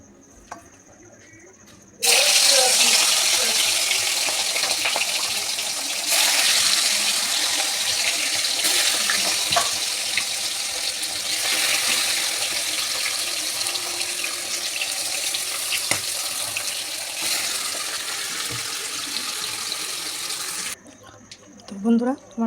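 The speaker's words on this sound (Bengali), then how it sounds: "তো এবার মাংসটা ফ্রাই করে নেব।" Meat fries in hot oil with a loud, steady sizzle that starts suddenly and runs without a break for nearly twenty seconds before cutting off. A voice speaks briefly before and after the frying.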